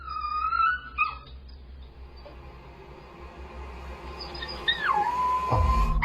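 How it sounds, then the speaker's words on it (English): A puppy in its cage whines in thin, wavering high cries, falls quiet, then rises into a long sliding howl near the end, close and clear over a low background hum. "He starts whining and lays down. Then he starts howling."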